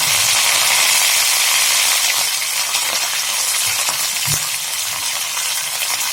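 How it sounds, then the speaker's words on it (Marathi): Curry leaves hit hot oil with a steady hissing sizzle and faint crackle, loud at first then easing slightly, with a brief clink of a utensil midway; no voices. "नंतर त्यात कढीपत्ता टाकूया।"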